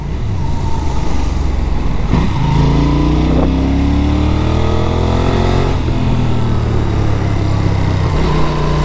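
Benelli Leoncino 800, a 270-degree twin-cylinder motorcycle, riding at speed with a steady engine drone that rises and falls through gear changes, heavy wind buffeting throughout and no talk.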